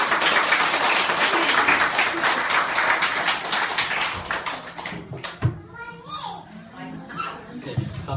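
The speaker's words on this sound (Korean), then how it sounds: "우리 김구영 권사님 나올 적에 우리 환영하는 박수로 환영하겠습니다" Welcoming applause from a church congregation as a deaconess comes forward, dense clapping for about four seconds that fades into scattered claps, with voices speaking after it.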